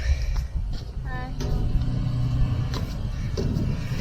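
A car pulls up to collect travellers in Sur, Oman, its engine rumbling and rising steadily close by, with people talking over it.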